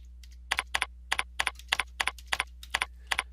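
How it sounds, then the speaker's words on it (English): Computer keyboard typing in a steady run of about ten distinct keystroke clusters, each a quick double tap, close and clear over a low constant hum, with no talking. "So as I type,"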